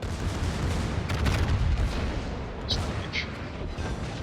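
Naval gunfire striking the Conqueror battleship in a ranked warship video game match, a dense rumbling barrage of booms and impacts rolling continuously under a busy game soundscape.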